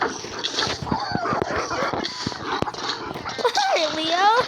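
A little puppy whines and makes small yelping noises, with a rising whimper near the end, while people talk loudly over it indoors.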